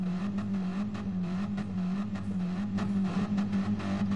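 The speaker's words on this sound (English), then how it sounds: "Can you hear my car from back there?" A car engine in the racing game Gran Turismo 7, heard in cockpit view during a drag race, drones steadily at high revs with small rhythmic fluctuations, loud and alone.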